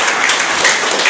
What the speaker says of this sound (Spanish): ¿Cuándo le damos un aplauso al Señor?